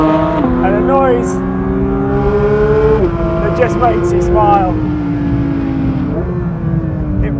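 A 2022 Porsche 911 GT3 engine revs high and climbs through gears on a track, with a steady loud near drone stepping up in pitch at each shift, heard under someone talking from inside the car.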